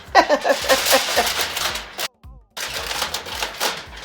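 Heavy duty Reynolds aluminum foil crinkles and rustles as it is tented over a turkey, in busy crackling bursts with a brief silent gap midway.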